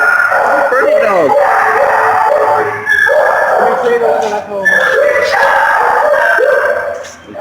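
Dogs at an adoption shelter bark and howl in overlapping bursts, loud and close, with people talking among the animal cries throughout.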